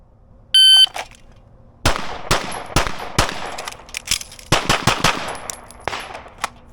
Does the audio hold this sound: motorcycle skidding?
no